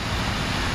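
Water running down a water wall at a children's museum in Houston, a steady close wash of flowing, splashing water with no talk.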